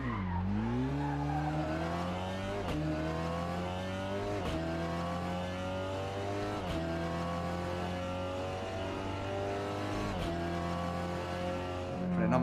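A Seat Leon TCR race car accelerates on a track with rapid rising engine notes, sharp gearshifts every couple of seconds and a steady, fairly distant roar heard from the cabin.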